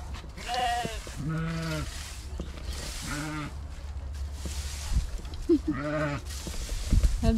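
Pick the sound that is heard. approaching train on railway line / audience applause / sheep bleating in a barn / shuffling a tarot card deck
sheep bleating in a barn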